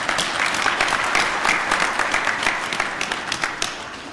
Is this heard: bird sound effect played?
no